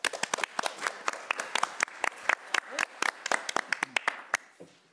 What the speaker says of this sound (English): please give her a big round of applause, Nancy Rios.